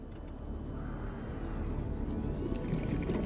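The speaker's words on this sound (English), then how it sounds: "that sound was a ghost leviathan" A ghost leviathan roars in the Subnautica video game, a deep, drawn-out rumbling moan that swells slowly and sounds distant and heavy underwater, with no talking over it.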